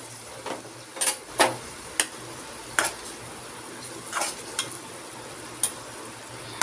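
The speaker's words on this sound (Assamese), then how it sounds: "এতিয়া অতি কমেও মই 5 মিনিট সময় এইদৰে ভাজি ল'ম।" Masala paste and green chillies frying in a pan over medium flame make a low sizzle broken by a scattering of sharp spatula scrapes and clinks, heard close with no talk.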